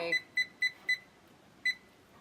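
A cooker timer is set with a run of four quick, even electronic beeps, then a short pause and one more beep. The beeps are close and clear over near-silence, with no speech.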